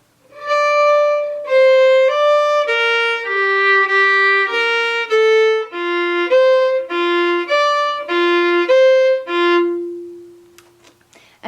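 A solo fiddle plays the first section of the Tarbukas tune as a clear melodic line of about a dozen bowed notes, stepping up and down before ending on a long low note.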